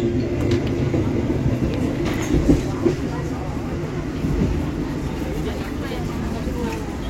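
Passenger train running on rails on a trip from Jakarta to Kediri, heard from inside as a steady low rumble with soft rhythmic clacks, with voices over it.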